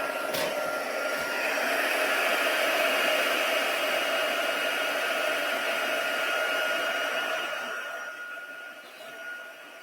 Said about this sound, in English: the noise of this embossing machine